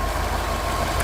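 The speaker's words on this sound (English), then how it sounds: "I don't know how much boost this builds when you're just revving in neutral" A 2004 Subaru WRX STI with 66k miles runs in neutral, its engine giving a loud, close, steady drone with no clear rise or fall in pitch.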